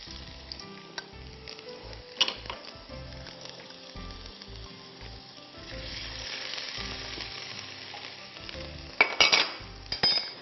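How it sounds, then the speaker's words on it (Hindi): Mustard seeds and ginger dropped into hot cooking oil, a steady close sizzle and crackle that swells midway, with a few clinks of a utensil against the pan. "कुकिंग ऑयल गरम हो गया है, उसमें मैं राई दाना डाल देती हूं और अदरक"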